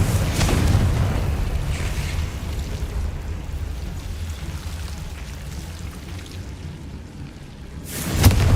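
A Confringo blasting spell explosion in Hogwarts Legacy, a deep rumbling boom that decays into a long low roar, followed near the end by a second sharp burst.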